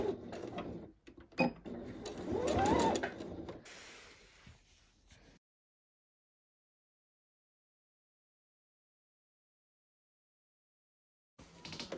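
A sewing machine stitches a corner on a fabric tote bag, a few seconds of loud mechanical running with short bursts, then the motor stops and near silence follows.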